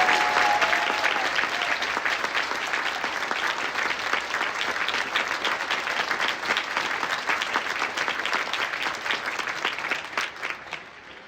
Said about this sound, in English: And number two, a great round of applause.